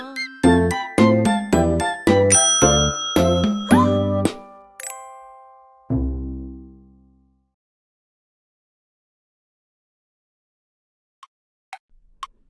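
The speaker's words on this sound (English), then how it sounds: "Morning bells are ringing, morning bells are ringing. Ding, ding, dong, ding, ding, dong." Cartoon nursery-rhyme bells ring out in a bright sequence of about ten chimed notes, dinging and donging in a steady rhythm, then one deep, lingering bell tone that fades into silence, with a few faint clicks near the end.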